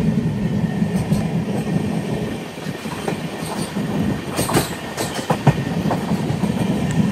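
The Gowthami SF Express rolls along the rails in a loud, continuous rumble, with rhythmic clickety-clack wheel beats and sharp metallic clicks passing close by.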